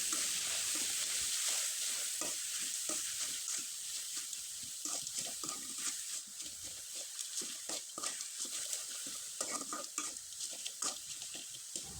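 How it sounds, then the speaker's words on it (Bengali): Papaya being stirred as it fries in a pan over low heat, with a steady soft sizzle and repeated scraping, clattering strokes of the spatula across the pan throughout, close and alone. "পেঁপেটা আমি খুব ভালোভাবে নেড়েচেড়ে নিলাম।"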